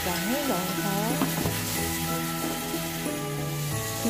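Teriyaki sauce of mirin, soy sauce and sugar sizzling in a frying pan around lotus root meatballs, a loud, close, continuous hiss with a couple of soft knocks and a brief voice-like sound.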